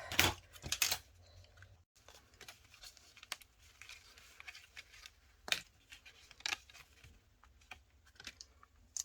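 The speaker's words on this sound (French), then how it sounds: "Là, je peux découper le reste." Scissors cut paper for bookbinding in quiet, close snips and crisp slicing sounds, with a few sharper clicks scattered among low rustling.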